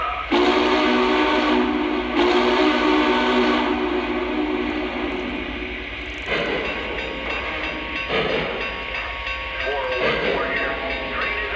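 A Lionel Vision Line Big Boy model steam locomotive, Union Pacific 4014, runs around a layout, giving a steady mechanical rumble with chuffing and a sustained whistle-like tone early on, loud and continuous throughout.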